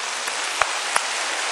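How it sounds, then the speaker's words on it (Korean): A church congregation claps for Jesus during a Korean sermon, a steady, even wash of many hands with a couple of sharper claps standing out, and no talking over it. "빛 대신 예수님께 박수 한번 올려드립니다"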